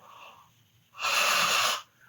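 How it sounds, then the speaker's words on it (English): A single loud, close exhalation through a wide open mouth during a bioenergetic tension-release breathing exercise, a breathy rush lasting under a second after a faint quieter breath. "So here, open mouth breathing, move back,"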